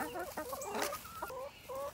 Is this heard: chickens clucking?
yes